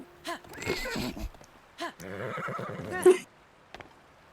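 Horse in Zelda Tears of the Kingdom whinnying in several short game-sound neighs, one longer and more drawn out, with some hoof clatter and quiet gaps between.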